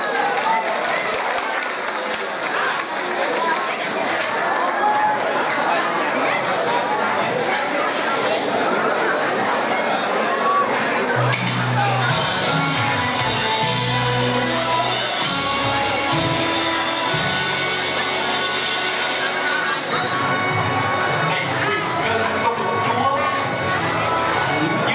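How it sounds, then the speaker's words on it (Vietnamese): A large crowd applauds and cheers after a stage dance performance, with dense clapping and lively chatter throughout, and a low musical bed entering partway through. "Xin chúng ta dành một tràng pháo tay thật lớn cho Kim Thi và Lê Thị trong Tâm"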